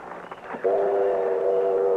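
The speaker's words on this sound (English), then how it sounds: "The train's pulling in." A steam train pulling into a station in an Old West radio drama sounds a long, steady whistle that starts abruptly and holds loud and close, after a brief stretch of rumbling rail noise.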